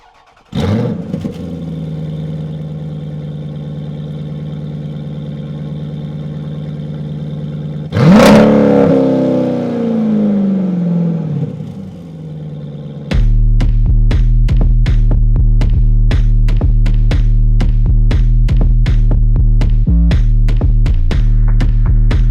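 A Jeep Grand Cherokee SRT engine with open exhaust valves idles with a deep rumble, blips into a loud rev that winds down, then settles into a heavy, pulsing, throaty idle.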